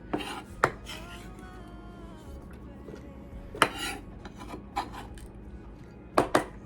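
A knife minces food on a cutting board, with a few sharp, separated chops and short bursts of quick strokes over a faint steady tonal hum.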